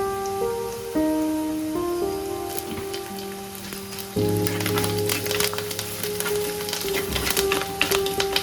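Curry leaves sizzling and crackling in hot oil with ginger and garlic, a steady popping fry that grows louder midway, with music playing over it.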